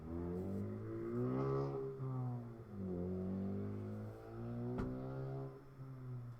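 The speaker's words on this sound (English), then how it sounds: "revving of an engine" A car engine revs and roars, rising and falling in pitch in steady waves with a sharp spike near the end, loud and continuous throughout with no talking.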